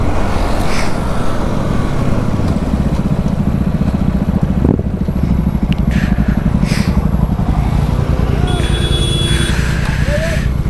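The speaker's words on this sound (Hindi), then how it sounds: "हम बीच में रोड पे बाइक चला रहे हैं।" A Benelli TRK 502X motorcycle rides along a road between dirt shoulders, its engine a loud, continuous close throb with a rhythmic pulse, while a rider talks over the steady wind and road noise.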